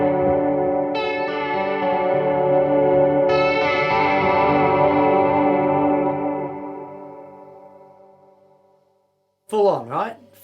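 Guitar played through a Chase Bliss Audio effects pedal into a wet rig: sustained chords swelling with heavy modulation and echo, two bright re-struck chords, then a long fading decay and a short voice at the end.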